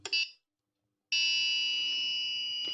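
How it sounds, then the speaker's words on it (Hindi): An active buzzer wired into a passive-buzzer circuit gives a short shrill beep, falls silent for a moment, then holds a steady, piercing high tone. "पैसिव बजर की जगह एक्टिव बजर ने काम कर दिया है"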